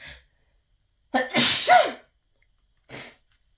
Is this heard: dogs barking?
no